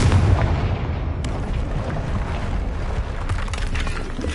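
Bombarda and Confringo spell blasts in the Hogwarts Legacy video game, a dense, continuous roar of booming impacts and rumbling debris with a sharp burst near the start, loud and sustained throughout.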